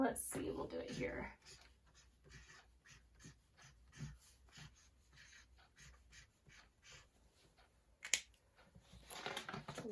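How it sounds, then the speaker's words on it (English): A marker writing on a board in a classroom read-aloud setting, soft squeaky strokes and taps in irregular bursts, fairly faint and close, with a brief louder knock near the end. "I'm going to write Foxy Loxy over here"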